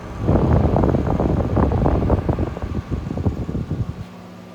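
The optional external cooling fan on a Sears welder runs loud and close as a rough, fluttering whoosh with a low rumble, steady for about four seconds before it cuts away to a quiet hum.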